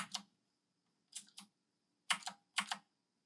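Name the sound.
typing on AJazz AK50 mechanical keyboard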